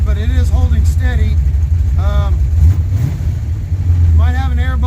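A project car's engine idling after an hour of running, a steady low rumble throughout, while someone talks over it in several bursts.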